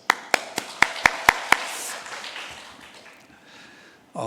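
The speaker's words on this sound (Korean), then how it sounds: "박수 한번 하시죠." Church congregation clapping in unison, seven sharp, evenly spaced claps in quick rhythm, followed by a brief fading patter and room murmur.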